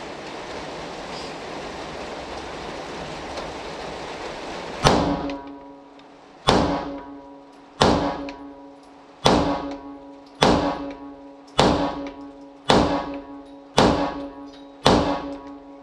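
Shots from a Ruger Security 380 pistol at a range follow a stretch of steady background noise: nine sharp, loud reports at an even pace of about one per second, each with a short ringing decay, and no talk.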